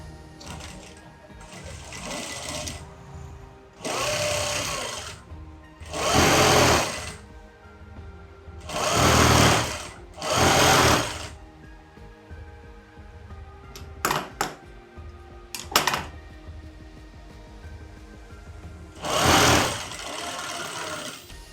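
Electric sewing machine stitching the folded hem of a child's skirt, running in several loud bursts of a few seconds each, with short pauses and faint clicks between runs.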